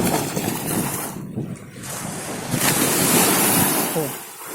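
Ocean waves surging onto a beach, a loud continuous roar and wash with rising and falling swells, wind buffeting the microphone.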